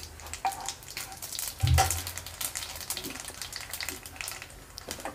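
Black cumin seeds hit hot oil in a wok just used for frying hilsa fish. A sharp burst of sizzling flares up and then settles into a continuous bubbling crackle, close and moderately loud.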